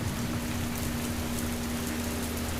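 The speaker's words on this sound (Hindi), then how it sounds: "मौसी, बारिश इतनी तेज है।" Heavy rain in a Hindi cartoon, a dense, steady wash of downpour hiss with a faint constant hum beneath, continuous and unbroken throughout, with no voices.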